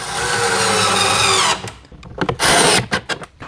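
A power drill drives 3/4 inch screws into a simple wooden sink cabinet, with a long loud whir close by that then breaks into short bursts and a final strong spin.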